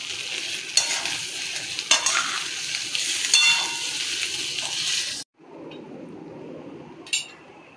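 Salt being stirred into butter chicken frying in a pan, with a steady broadband sizzle and repeated scraping strokes, then a brief pause before quieter frying and a final utensil clink.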